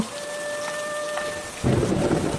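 Heavy rain pours steadily through the whole stretch, joined near the end by a loud, close rumble of thunder that swells into a dense roar. A faint tonal hum runs beneath the downpour in the first part, and nobody speaks.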